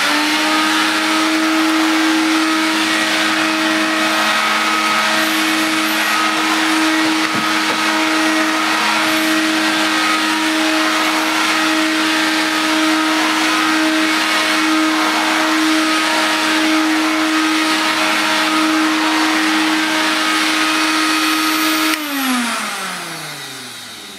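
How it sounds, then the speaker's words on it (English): A vintage Hooverette stick vacuum cleaner runs steadily close by, cleaning up a mess in front of a washing machine, with a constant motor whine that shifts pitch and winds down near the end. "I'm just going to clean the rest of this mess up in front of the washing machine."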